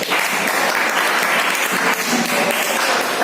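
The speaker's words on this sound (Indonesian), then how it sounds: "Beri tepuk tangan kepada semuanya." A classroom audience applauds student presenters with steady, loud, continuous clapping throughout.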